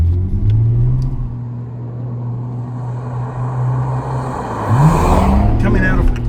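A Nissan Skyline R33 GTR with a twin-turbo engine pulls out of a corner, its loud, deep engine drone holding steady under acceleration and then rising sharply near the end as the revs climb, heard from inside the car.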